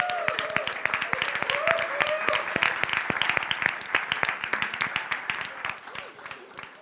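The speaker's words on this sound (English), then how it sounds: "which deserves a big applause" An audience claps at a coding bootcamp demo day in Berlin, a room of about twenty graduates and guests giving sharp, scattered applause that thins toward the end, with some talk and cheers mixed in.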